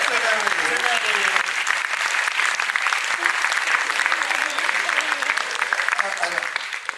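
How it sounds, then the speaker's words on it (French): Sustained applause from an audience at a live event, dense steady clapping that carries on throughout with voices faintly heard under it. "On l'applaudit."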